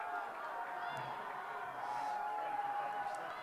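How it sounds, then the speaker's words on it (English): Visiting fans cheer and applaud from the east-side bleachers at a boys' high school lacrosse game, a steady, distant crowd wash that carries on for several seconds under a commentator's voice. "gets a earned applause from the visiting bleachers there on the east side"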